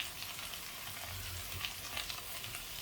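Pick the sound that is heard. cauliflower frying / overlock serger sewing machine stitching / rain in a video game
cauliflower frying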